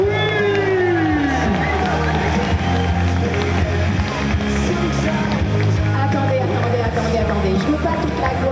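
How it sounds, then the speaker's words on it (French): Applause and cheering from a convention crowd for a Harley Quinn cosplayer during a cosplay parade at Comic Con France, a dense, steady roar with music and voices mixed in throughout. "Un tonnerre d'applaudissements pour ma binôme Harley Quinn."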